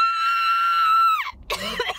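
A person's voice imitates a dog's intense yelp at the vet: one loud, high, sustained cry that bends downward and breaks off into a brief gagging cough.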